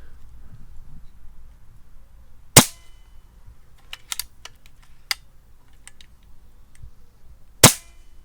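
A BSA R12 CLX Pro carbine air rifle fitted with a silencer fires two sharp, close cracks several seconds apart, with light mechanical clicks between them in an otherwise quiet setting.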